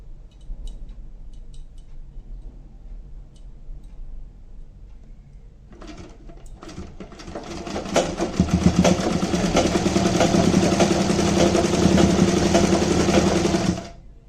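A sewing machine stitches gharara fabric, first a few quiet clicks and brief starts, then a loud, steady, close mechanical whirr of fast stitching for several seconds before it stops.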